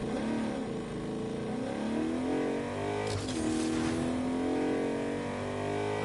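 A car engine revs hard in the video game Agent of Mayhem, its pitch climbing steadily and then holding high, loud and continuous with a brief whooshing burst partway through.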